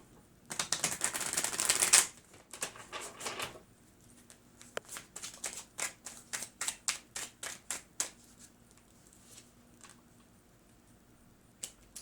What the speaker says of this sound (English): Good old shuffle.